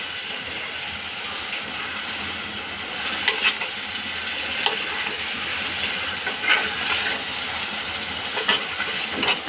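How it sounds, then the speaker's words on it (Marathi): Marinated chicken sizzles steadily as it fries in masala for matka chicken, with occasional scraping strokes of stirring cutting through the constant hiss. "आता आपण हे मसाल्यामध्ये पूर्ण व्यवस्थित फ्राय करून घेऊया 2 मिनिटं।"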